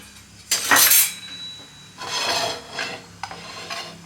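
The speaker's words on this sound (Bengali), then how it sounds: "এখানে আমি একটু বেসন ভেজে নিচ্ছি হালকা করে।" Gram flour is lightly fried in a pan, heard as a few distinct bursts of a spatula scraping and rasping across the metal, separated by short quieter gaps.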